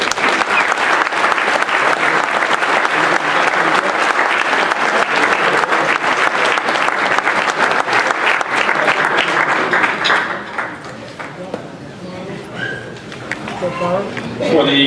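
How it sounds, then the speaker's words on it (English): An audience at a baseball hall of fame induction ceremony in a hotel ballroom claps loudly and steadily for about ten seconds, then the applause fades to scattered claps as a voice starts talking. "We can give all these guys a round of applause."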